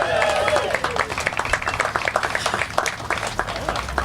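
An audience applauds at an outdoor trailhead ribbon cutting ceremony, with dense clapping from a crowd, loud at first and then thinning into scattered claps toward the end.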